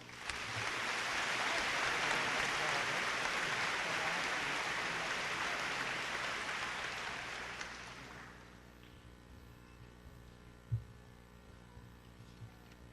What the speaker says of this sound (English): please join me in honoring him with a round of applause